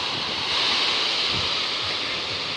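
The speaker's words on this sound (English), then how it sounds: "it seems to be higher waves today" Ocean waves roll onto a beach at St. Lucia under cloudy skies, a loud steady hiss of surf with gentle swells of breaking water and wind rushing across the microphone.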